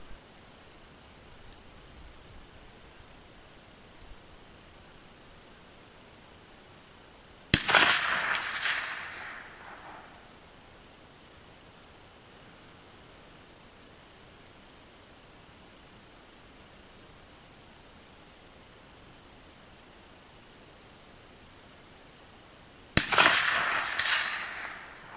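Two sharp, distant cracks from a Romanian AK rifle firing Tula 122 grain full metal jacket rounds at a 250-yard range, spaced roughly fifteen seconds apart, each followed by a brief fading echo over a quiet, hissy outdoor background.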